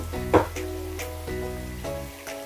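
Sliced tomatoes going into a hot pan for chicken yakhni pulao, giving a soft steady sizzle with a brief clatter as they drop in; no talking over it.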